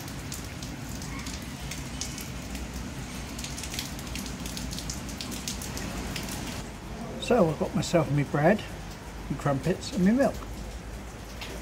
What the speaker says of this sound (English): Still raining though.